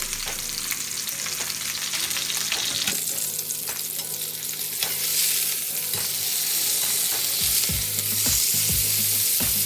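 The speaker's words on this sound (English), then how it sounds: "now as I'm getting the sear on the second side" Ribeye steaks sear in a hot pan with a loud, continuous sizzle and crackle, joined by several sharp knocks and scrapes later on.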